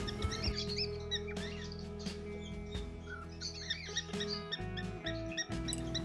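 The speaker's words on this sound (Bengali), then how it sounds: "চারদিকে পাখির কিচিরমিচির শব্দ" Many small birds chirp and tweet at a riverside forest camp in Jhalong, Dooars, beneath hills. Quick bright calls repeat from several directions over a steady low background.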